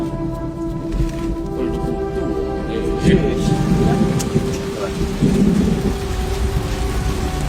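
Heavy rain pours steadily on surfaces nearby while thunder rumbles low and continuous through a storm, with a few faint voice-like sounds beneath the downpour.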